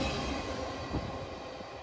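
A passing train rolls by with a steady, low rumble of rail cars, fairly faint and distant, with no voices over it.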